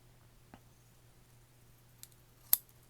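Scissors cutting paper give a couple of faint clicks and then one sharper snip near the end, close by in a quiet indoor space.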